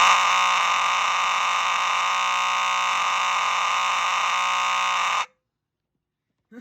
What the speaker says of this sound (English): just got done wiring up the alarm